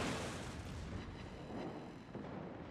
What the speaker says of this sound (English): He keeps shooting me with guns.